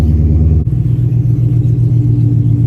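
A rebuilt, supercharged 2020 Shelby GT500 V8 engine revs, rumbling loudly and steadily up close, a deep throbbing drone with a brief dip partway through.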